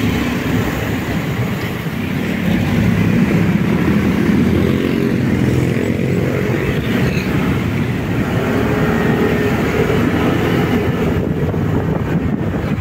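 A 2024 Rusi Sparkle 150i scooter engine starts after a brief dip, then settles into a steady, quiet running hum that continues close by without a break.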